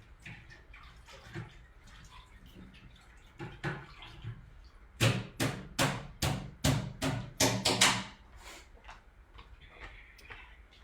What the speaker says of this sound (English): I'm getting my stencil that's over here in the water.